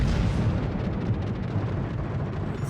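Main battery guns of a Russian Tier-10 battleship, the Pobeda, firing in World of Warships: a loud, sustained low rumbling boom that fills the whole moment, with no talk over it.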